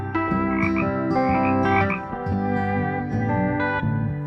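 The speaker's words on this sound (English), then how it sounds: "bullfrog" Bullfrog croaking, with dense overlapping calls in a steady rhythmic chorus, loud and close, filling the whole stretch alone without any talk.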